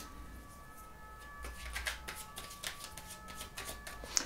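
Tarot cards being shuffled in a quick reading, a soft run of crisp riffling flicks and taps, close and fairly quiet, with a faint steady tone in the background.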